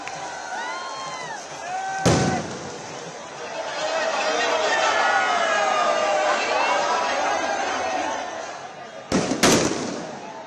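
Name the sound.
firecrackers set off by celebrating cricket fans in the street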